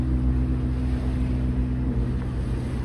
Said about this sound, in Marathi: इकडं बऱ्याच बोट चालल्या.